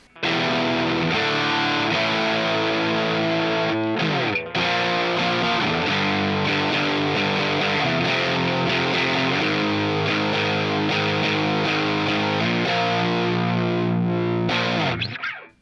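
Heavily distorted electric guitar played through a ProCo RAT 2 distortion pedal plays sustained chords and riffs, loud and continuous, with a brief pause midway before ringing out again.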